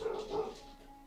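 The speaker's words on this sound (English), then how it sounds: "My dog just started going nuts." A dog barks a couple of times in quick succession, a close, moderately loud burst of yips with a faint lingering tone behind it.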